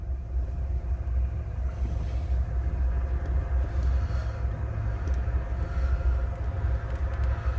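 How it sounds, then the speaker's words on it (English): Jacked-up car wheel spinning freely off the ground, a steady low rumbling drone with a faint whirring hum, continuous and fairly close with no talk. "This wheel is spinning."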